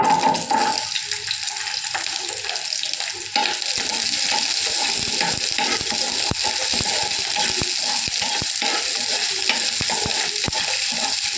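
Small onions sizzle in hot oil in a home kitchen pan, giving a steady hiss with scraping stirs throughout. A louder splash of sizzling comes near the start.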